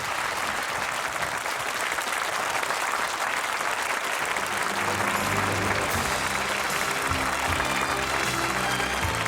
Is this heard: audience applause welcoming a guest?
yes